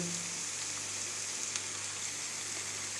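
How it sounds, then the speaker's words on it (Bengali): Banana flower fritters fry in hot oil in a home kitchen, giving a steady, even sizzle and crackle at moderate volume with no voices. "তেল গরম হয়ে গেছে, এবার বড়াগুলোকে আস্তে আস্তে তেলে ছেড়ে দেব"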